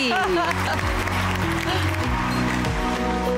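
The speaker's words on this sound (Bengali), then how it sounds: "রিতেশের জন্য হাততালি।" Studio audience applauding a contestant on a Bengali television game show, a dense burst of clapping mixed under loud music and a host's voice for a few seconds.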